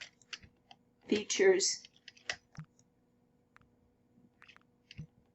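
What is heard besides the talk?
clicking the space bar on a computer keyboard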